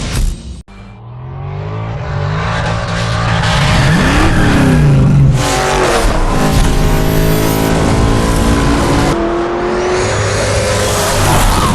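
A powerful American muscle car engine in Need for Speed Shift 2 Unleashed revs hard and roars steadily, loud and close, with rising and falling pitch as it accelerates.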